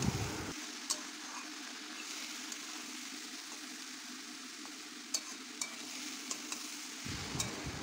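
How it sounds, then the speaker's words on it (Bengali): Jackfruit and boiled potato frying in a pan for a vegetarian jackfruit-poppy-seed dish, giving a steady soft sizzle with a few sharp clicks of stirring, close and alone with no talk. "বেশ কিছুক্ষণ ধরে সমস্ত কিছুকে আমি খুব ভালো করে ভেজে নিয়েছি"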